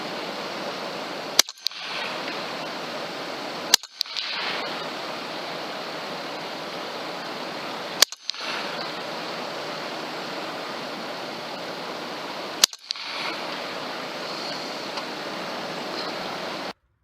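A Western Rattler .357 revolver fires 150 grain hollow points outdoors at a 50-yard range: four sharp, loud, separate shots several seconds apart, each with a brief echo, over steady background hiss.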